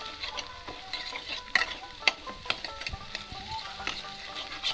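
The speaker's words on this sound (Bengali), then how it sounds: "আমি ডিমটাকে ঘেটে দিচ্ছি" Egg is scrambled and fried in a pan for chow mein, with a light continuous sizzle broken by frequent scraping and tapping stirs near the microphone.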